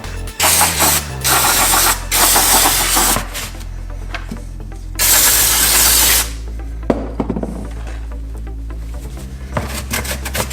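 Carpet cleaner is sprayed onto the surface of a dirt bike airbox, giving several loud hissing bursts of aerosol spray, close up, separated by quieter stretches of handling and scraping.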